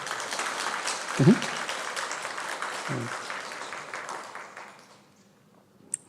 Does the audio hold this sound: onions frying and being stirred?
no